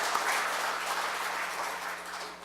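Applause rises from the audience at a Korea University labor-management forum, a soft, even wash of many hands clapping that fades slightly toward the end.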